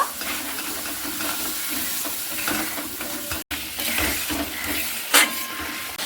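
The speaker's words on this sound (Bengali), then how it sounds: "পরিমাণ মতো হলুদ দেব হালকাভাবে মশলাটিকে আমি কষে নিব" A spice paste with salt and turmeric sizzles and hisses steadily in a pan as it is sautéed, with occasional stirring scrapes and a brief sharp clink near the end.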